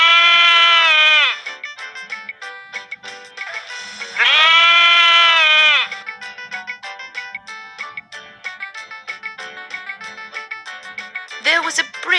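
Goats bleating in a children's story, two long quavering bleats loud and close, interleaved with stretches of spoken narration and a brief squeaky bleat near the end.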